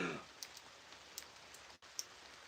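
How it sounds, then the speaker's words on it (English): Light rain falls outdoors as a steady soft hiss, with faint scattered drip ticks on the surface and a brief dropout near the end, and no talking. "It's only raining"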